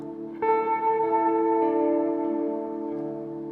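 An electric guitar chord is struck and rings out, and its reverb tail deepens and thins as a CASIO Dimension Shifter strap effect controller changes the setting. The sustained notes fade slowly and smoothly.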